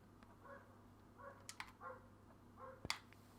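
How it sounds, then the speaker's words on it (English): A dog barks outside in the distance: four faint, evenly spaced barks with a few soft clicks nearby. "You can probably hear the dog barking outside."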